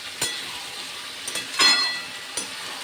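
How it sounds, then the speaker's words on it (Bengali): Spices with turmeric and Kashmiri chilli powder being sautéed in a pan for aloo dum, with a steady soft sizzle broken by a few sharp clinks and scrapes of a spoon against the pan. "খুব ভালো করে মশলা কষিয়ে নেব।"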